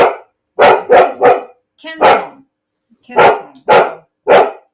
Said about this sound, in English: I know why she's barking.